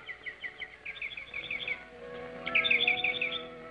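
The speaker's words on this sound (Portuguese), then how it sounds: "São as aves sujas, mas sabem agir direitinho." Small songbirds chirp in quick repeated bursts, two clear runs of bright tweets over a low background hum, fairly close and with no talking.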